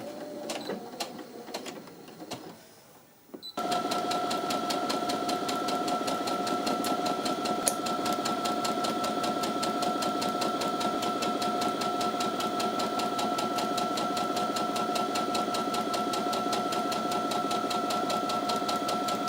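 A sewing machine stitches fabric dress tie-ins for a vintage Vogue V9346 reproduction dress, a fast, steady mechanical whirr running continuously after a few brief handling noises.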